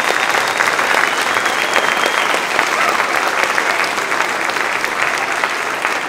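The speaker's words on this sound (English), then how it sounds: "Let's give them another round of applause." Audience applause after a holiday choral concert, a steady dense wash of many hands clapping that sustains evenly without talk before tapering slightly at the end.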